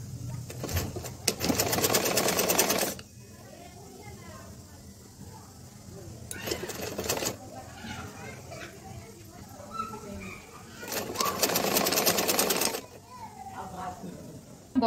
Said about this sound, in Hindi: दूसरी साइड भी मैं वैसे ही सिलाई लगा दूंगी सिंपल।